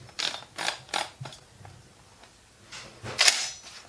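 Parts of a Benelli M2 shotgun are handled as the nut is fitted during reassembly, producing a short series of close, light metallic clicks and taps, with a brief louder clack near the end.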